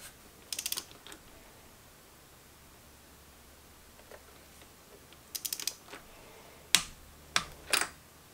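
Torque wrench clicking as it tightens a spark plug on an Evinrude ETEC outboard motor: small clusters of ratcheting clicks with quiet gaps between them, then a few sharper, louder clicks near the end, close up with no talking.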